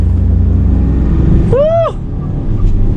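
A front-wheel-drive BMW 2 Series Gran Coupe launches hard with traction control off. Its engine makes a loud, steady low rumble, broken midway by a brief rising and falling high tonal squeal.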